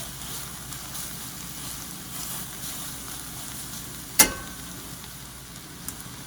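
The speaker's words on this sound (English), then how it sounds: "I'm gonna let that garlic cook for a minute or 2, just to make sure we're not biting into some raw garlic" Garlic cooks in a pan with a steady, soft sizzle that holds level throughout, broken by one sharp clink of a utensil near the end and a faint tap after it.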